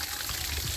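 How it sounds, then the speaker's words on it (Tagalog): Water pours steadily onto young chili plants being watered after fertilizing, a dense continuous rush at close range with no pause. "naglalagay ng tubig"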